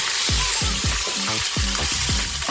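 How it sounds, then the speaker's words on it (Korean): Loud, steady sizzling of steak searing in a hot frying pan, with scraping and clinking of utensils stirring over the hiss. "그럼 고기를 넣어줄게요. 지글지글 소리가 아주 환상적이네요."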